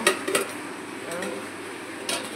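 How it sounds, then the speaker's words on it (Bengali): Metal lid lifted off a cooking pot of frying bottle gourd greens, a couple of quick clanks up front followed by a steady close sizzle from the pan. "এবার আমি ঢাকনাটাকে খুলব"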